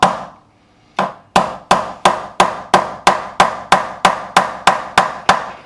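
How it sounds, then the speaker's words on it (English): A nylon-faced fretting hammer taps a new fret into the neck of a 1986 Hamer Chaparral guitar during a refret, a dozen crisp, even knocks in a steady rhythm, loud and close. "I'm going to take my fretting hammer and gently with the nylon side,"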